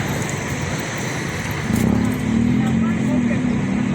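A Rosalia Indah bus idling at a busy station before departure, its engine hum rising into a steady low drone partway through, amid crowd noise and talk.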